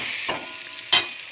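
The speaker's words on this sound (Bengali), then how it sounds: "তাড়াতাড়ি করে আমি আমার গাজরটাকে বেশ একটু ভালো করে ভাজা ভাজা করে নিচ্ছি" Carrot pieces fry over raised heat in a pan, giving a steady soft sizzle with two sharper bursts as the pan is stirred, close and without voices.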